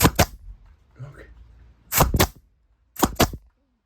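A pallet de-nailing gun fires three loud, sharp bursts close by, each a doubled crack with recoil, spaced about a second apart, with a little faint movement between shots.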